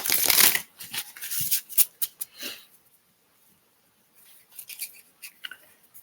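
Tarot cards being shuffled by hand, quick papery riffles and flicks in short bursts, a silent gap, then lighter shuffling resumes nearby.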